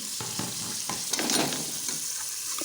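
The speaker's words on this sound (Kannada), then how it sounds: "ಎಲ್ಲ ಒಟ್ಟಿಗೆ ಹಾಕ್ಕೊಂಡು ಒಂದ್ಸಲ ಫ್ರೈ ಮಾಡ್ಕೋತೀನಿ" Chopped mixed vegetables frying together in a pan give off a steady, close sizzle with a few scraping stirs, with no talking.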